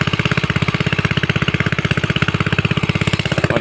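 A Farmtrac 65 EPI tractor engine pulls an 18-disc harrow across a field, a loud, close, steady pulsing chug with no talking.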